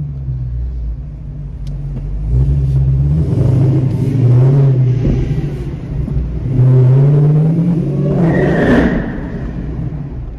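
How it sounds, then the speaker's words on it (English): Dodge Challenger Hellcat accelerating hard, its engine rumble rising in two loud surges with a supercharger whine climbing over the revs, close and dominant with no talk. "wait till you hear that supercharger whine"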